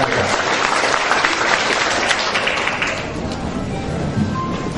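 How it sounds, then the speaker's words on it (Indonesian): A debate audience breaks into loud, dense applause that fills the hall, steady for several seconds before thinning slightly toward the end. "Tepuk tangan untuk seluruh kita"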